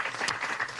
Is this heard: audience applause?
yes